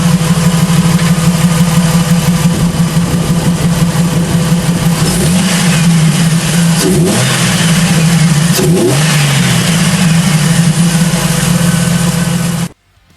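A Jeep TJ engine fitted with a K&N cold air intake starts and idles with a steady low rumble, then gives two sharp revs that climb and fall back, loud and close, before cutting off abruptly.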